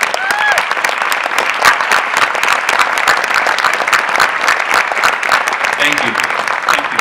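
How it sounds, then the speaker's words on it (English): An awards-ceremony audience claps at length, with dense, sustained applause filling the room while a voice speaks over it. "I'd like to give them a round of applause"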